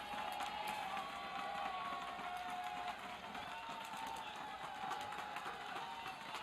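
Crowd at the paintball World Cup, a distant, steady wash of murmuring spectators and faint cheering with scattered clicks, continuous and fairly quiet.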